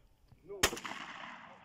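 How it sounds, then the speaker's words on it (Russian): A single sharp gunshot cracks nearby, fired at a bottle on a spring duck hunt, followed by a short fading echo, with faint quiet sounds before it. "Так, выстрел по бутылке."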